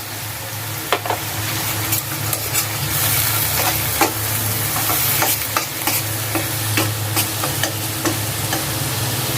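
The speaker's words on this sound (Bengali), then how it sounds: "স্বাদ মতো লবণ ভালো করে নাড়াচাড়া করে মশলাটা ভুনে নিব" Spice paste with cumin powder and salt sizzles steadily in a hot pan while a spoon stirs and scrapes in irregular knocks, close and continuous with no talk.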